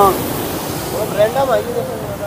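Kundal Shahi waterfall in Neelum Valley, Kashmir, pouring heavy water with a constant loud roaring rush close by, and faint whistly tones drifting over the noise.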